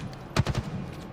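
A short burst of rapid gunfire in a competitive esports shooter match, a few quick shots clustered close together over a low game background.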